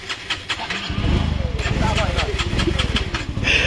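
A motorcycle is cranked and its engine catches into a steady, rough running sound, loud and close, with voices talking over it.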